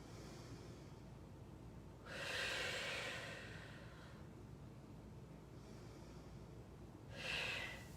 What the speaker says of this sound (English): Take some inhale, exhales here.